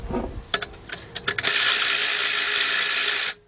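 A big-handled 3/8-drive ratchet with a 14mm shallow socket clicks in a few quick sharp bursts on alternator bolts, followed by a loud steady rasping whir of continuous ratcheting that stops abruptly; close and alone.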